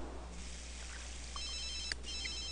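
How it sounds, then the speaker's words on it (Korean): A telephone rings in The Sims 3 video game, giving a few short electronic ring tones over a steady game background hum, with no talking. "전화 왔다"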